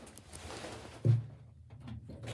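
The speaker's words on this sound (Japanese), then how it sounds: "ドアが開きます。" A Mitsubishi elevator door opens with a single brief low thump and slide near the middle, moderately loud against a quiet hum, with no speech.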